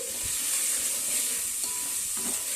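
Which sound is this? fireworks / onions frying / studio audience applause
onions frying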